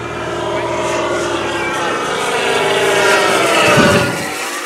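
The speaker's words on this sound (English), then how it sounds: "I'm going to land, Davey. yeah? I'll get, get ready for landing anyway" A P-51 propeller aircraft flies low overhead, a loud continuous engine drone with a steady tone that swells slightly toward the end, with voices speaking over it.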